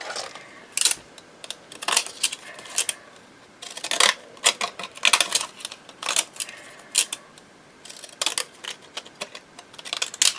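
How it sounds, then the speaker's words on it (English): Repeated crisp snips of decorative scissors cutting through paper, in short irregular bursts with brief pauses between cuts, close and clear. "Let's just use my fancy scissors."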